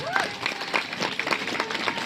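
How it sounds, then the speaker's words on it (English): An audience at a sea lion show at West Midlands Safari Park applauds, a moderate spread of clapping mixed with crowd noise and a few voices and whistles, under a lively outdoor bustle. "Give him a round of applause."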